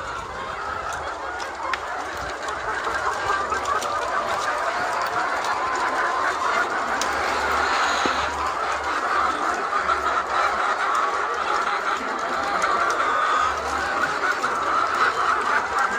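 A flock of Arab laying hens clucks and chatters in a coop, a dense, steady murmur of many birds that holds at an even level throughout with no one talking.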